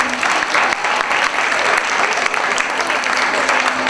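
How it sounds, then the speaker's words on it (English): Families in a school audience at an MLK All Stars event give the 4th graders a loud, continuous round of applause, dense clapping that holds steady throughout with faint crowd noise underneath. "let's give our 4th graders a huge round of applause"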